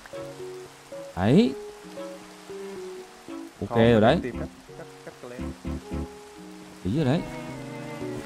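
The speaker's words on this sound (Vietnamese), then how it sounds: "Lại mưa." Steady hiss of rain falling in Minecraft runs throughout as a continuous soft wash, while someone talks over it with several louder bursts of speech.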